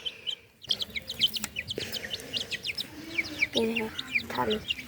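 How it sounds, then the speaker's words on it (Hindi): Chickens and small chicks penned in a Kashmiri village yard cluck and peep repeatedly at close range, with bright chirps scattered throughout and a person talking softly in the background. "यहाँ पे हैं हमारी मुर्गियाँ और इसमें है छोटी वाली मुर्गियाँ"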